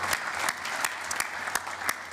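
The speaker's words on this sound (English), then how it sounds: "Well, and I think that we give a big applause to Katarina." Audience applause in a COSAC plenary meeting hall, a dense continuous patter of clapping with a few sharper claps popping out.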